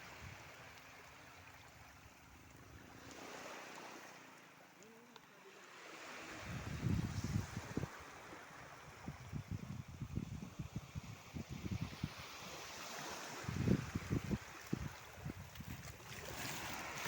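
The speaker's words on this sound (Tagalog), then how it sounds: "Kalingaw ng tubig." Water laps and splashes in an irregular rhythm over a soft rush of wind, gentle at first and then growing busier and closer.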